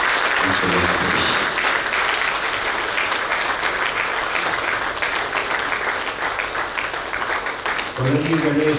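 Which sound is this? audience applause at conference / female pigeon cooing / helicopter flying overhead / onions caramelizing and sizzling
audience applause at conference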